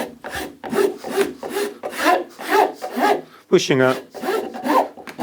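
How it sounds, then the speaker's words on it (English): A Japanese rasp rounds over the edges of a wooden folding camping table in rhythmic, scratchy strokes roughly twice a second, close and clear, with a brief spoken remark partway through. "Need to round these over just a little bit. So we can go Japanese rasp."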